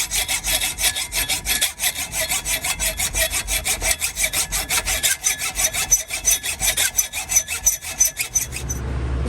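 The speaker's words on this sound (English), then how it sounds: "I'm going to hit it with a hacksaw" A hacksaw cutting a metal part from a Stanley ratchet, steady rhythmic rasping strokes, close and loud, continuing evenly for about nine seconds before easing off at the end.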